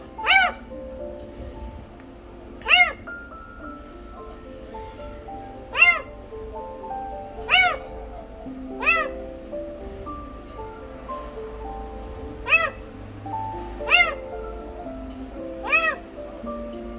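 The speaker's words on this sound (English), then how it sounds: "Just like the other little kittens, he is crying and calling for her mom pitifully." A young kitten recovering from surgery meows pitifully for its mother, about ten plaintive cries repeating every second or two, close and clear over a steady low background hum.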